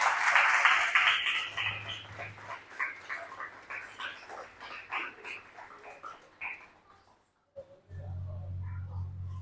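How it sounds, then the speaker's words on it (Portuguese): A church congregation claps during a Sunday service, a dense burst of applause that thins into scattered claps before a brief pause and a low hum. "Uma salva de palmas ao Senhor"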